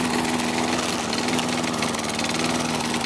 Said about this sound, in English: The engine sounds pretty bad.